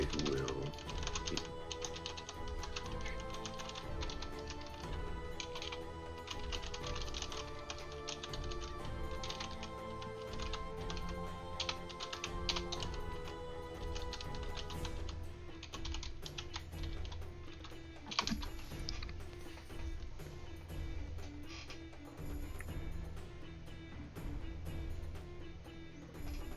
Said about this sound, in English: I got people typing